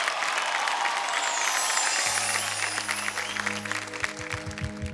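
Applause from the audience of a folk singing reality show, loud and dense at first, then easing as low musical tones and instruments enter under the fading clapping.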